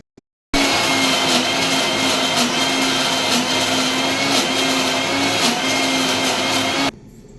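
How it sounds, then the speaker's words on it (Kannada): A mixer grinder grinding a paste for vegetable gravy starts abruptly and whirs loudly at a steady high pitch for several seconds, then cuts off. "ಈಗ ಮಿಕ್ಸಿಗೆ ರುಬ್ಕೊಳ್ಳೋಣ."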